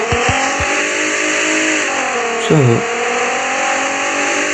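A car engine in the taxi driving game Taxi Sim 2022 hums steadily and loudly as the car drives, with a voice speaking briefly over it.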